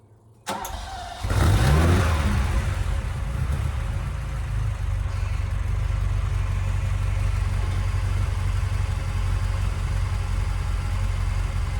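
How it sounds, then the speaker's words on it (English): A 1979 Ferrari 308 GTS engine cranks briefly, catches with a loud burst, then settles into a steady, close rumbling idle that holds for roughly ten seconds. "All right, start this baby up."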